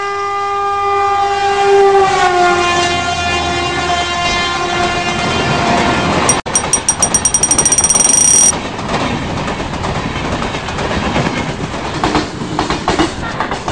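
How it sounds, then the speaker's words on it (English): The Chennai–Howrah Coromandel Express pulls into a platform, starting with a long sustained horn that fades into loud rolling wheel clatter, interrupted midway by a sharp burst of rapid electronic beeping. "8842 down Chennai Howrah Coromandel Express 3 number platform par aa rahi hai"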